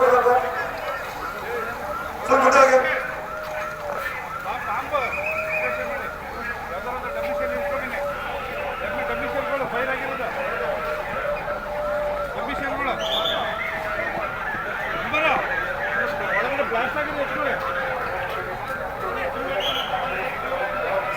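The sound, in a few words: ambulance siren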